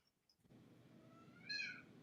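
A cat meows once, faint and somewhat distant, over a low background hum in a quiet indoor room.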